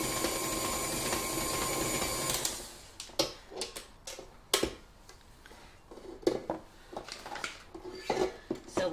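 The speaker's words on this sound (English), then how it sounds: "So we'll scrape down the bowl," Spatula scraping and knocking around a mixing bowl of vegan country cake batter in short, irregular close strokes, following a few seconds of steady mixer-like whir.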